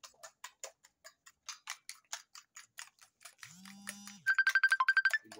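An incoming call on a phone sounds a ringtone of rapid, ticking electronic pulses that build into a loud trilling burst near the end, close and clear with no talk.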